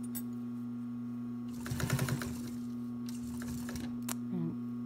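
Sewing machine stitching a welt seam on a mohair fabric pillow, a brief run of rapid mechanical stitching in the middle over a steady low hum, followed by softer handling sounds.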